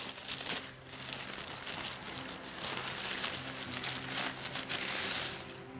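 Crinkling of a plastic advent calendar bag for day 20 being opened, a steady close rustle and crackle that runs continuously with no voice.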